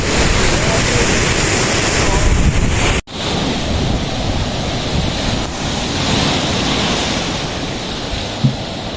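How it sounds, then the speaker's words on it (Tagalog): Heavy surf crashing and rushing along a shore, mixed with strong wind buffeting the microphone, continuous and loud with a brief dropout partway through. "Malalaki ng alon."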